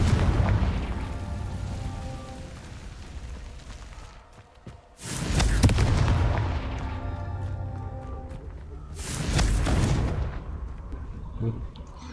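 Confringo blasting spells in the Hogwarts Legacy video game set off two loud booming explosions several seconds apart, each a sudden broad burst that rumbles and fades, over a steady background of game ambience.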